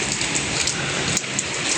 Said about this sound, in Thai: ฝนก็ตกลงมา